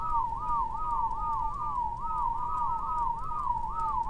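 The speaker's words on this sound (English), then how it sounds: "I'm gonna turn my back and whistle." A person whistles a warbling, looping tune that wavers up and down in quick repeated phrases, steady and clear over a low background hum, with no talking.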